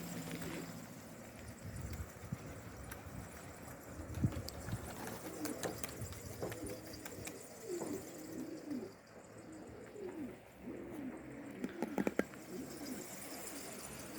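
Pigeons coo in low, repeated rolling calls over a steady outdoor background hum, with a few brief louder knocks and bursts scattered through.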